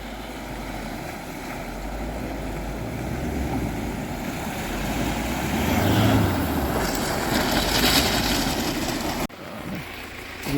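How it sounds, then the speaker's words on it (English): An Isuzu D-Max fords the Turon River, its engine rumble buried in a broad rush of churning water and wind buffeting the microphone, building louder toward the end before a sudden brief drop. "Billy's going across the creek now, or the Turon River I should say"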